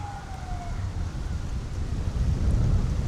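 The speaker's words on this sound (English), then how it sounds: "look how strong this wind is" Steady low rumble of strong wind buffeting the microphone of a drone flying near cliffs, swelling louder toward the end, with a faint descending whine early on.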